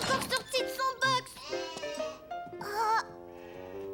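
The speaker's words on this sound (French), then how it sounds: "Ce mouton était beaucoup plus petit que les autres." Small lamb in a children's cartoon bleating in several quivering, wavering calls, loud and close, with a brief gap before a final higher bleat.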